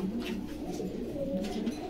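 Pigeons cooing at a busy pigeon market in Bogura, a steady low murmur of overlapping coos close by, continuing for the whole short stretch.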